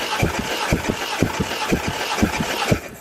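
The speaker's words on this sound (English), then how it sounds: "So now we've started the engine, we've verified it runs" A Toyota 1JZ VVTi engine runs on a test setup with a loud, lumpy, rhythmic idle, its regular pulses close and prominent with no voices.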